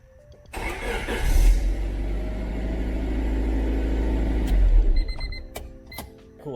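A Honda car engine cranks briefly then fires up and settles into a steady idle, close and loud, before dropping away near the end; no talking.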